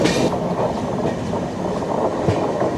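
A train arriving at a Mumbai station platform: a steady, loud rumble of rolling railcars with faint wheel clatter and a brief squeal, and no voices over it.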